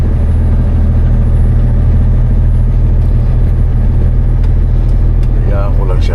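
A truck engine idles in neutral on a frozen Canadian highway, a steady low rumble holding throughout with a slight rise near the end; a voice talks faintly over it.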